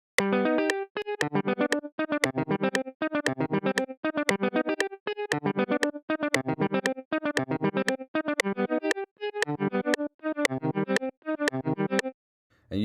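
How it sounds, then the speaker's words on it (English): Chord and melody loop processed through a transient effect plugin in FL Studio, giving a rhythmic in-and-out gating: repeated short bursts of synth chords chopped in steady pulses for about twelve seconds, loud and alone, ending abruptly. "which is just sort of a quick transient that you could put over melodies, chords, and even different samples to give it that in and out effect"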